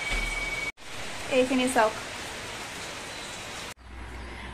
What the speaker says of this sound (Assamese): চকচোন বতৰটো বৰষুণ দিছে আজিও কলা মোলা কৰি আছে আৰু পুৰা বৰষুণ